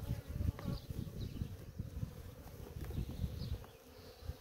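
Caucasian-Anatolian hybrid honeybees buzz around a split hive, a faint, steady drone with individual bees whining past now and then.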